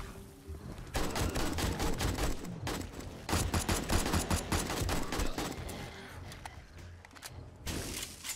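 Rapid bursts of gunfire in the 7 Days to Die zombie survival game, dense volleys of sharp shots in clusters with short pauses, loud and close, ending in a few scattered shots.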